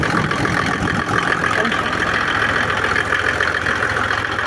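A gasoline motor pump at a pumping station idles in a continuous, even, rumbling drone, close and fairly loud, with no break or change in pace.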